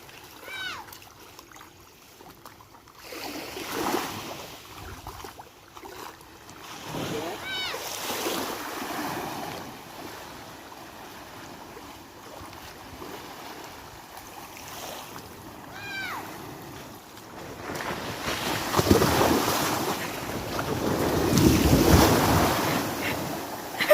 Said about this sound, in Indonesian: Adalah pantai Pulau Panjang.